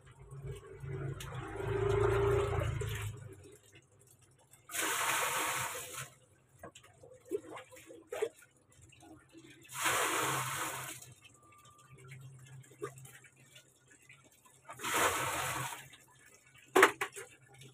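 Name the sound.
water running from a tap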